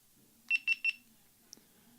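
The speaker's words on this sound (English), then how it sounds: "We got some beeps and it's shooting" A GoPro Hero 6 camera powering on gives three quick, evenly spaced electronic beeps, followed a moment later by a faint click, all close up in a quiet room.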